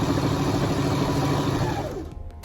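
A sewing machine stitches darts on a dress with a steady, continuous motor whir that runs loud and even, then stops abruptly near the end.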